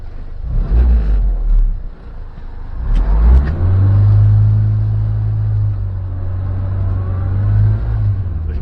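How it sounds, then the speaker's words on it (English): A classic Mini's small engine idles, then revs up loudly and holds a steady, buzzing drone that wavers slightly, close by and without talk. "as I rev the engine"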